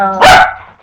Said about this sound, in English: And I apologize for my dogs.